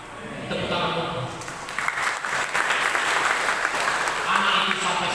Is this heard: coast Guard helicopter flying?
no